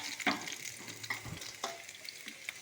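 Onions frying in hot oil with mustard seeds and curry leaves, a steady soft sizzle broken by a few sharp clicks and scrapes of stirring, fairly quiet and close with no voices.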